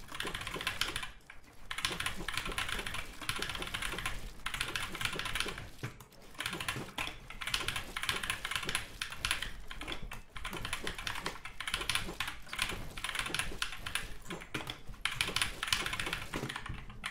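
A mechanical keyboard with yellow switches is typed on steadily and up close, its dense, continuous clacking broken only by a few brief pauses, with no voices.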